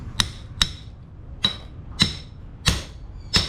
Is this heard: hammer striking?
yes